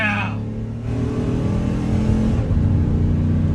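A heavy 2018 GMC Savana moving truck engine, unloaded, roars and climbs in pitch as it accelerates at full throttle on a straight level road, loud and close, with a rumbling low drone throughout.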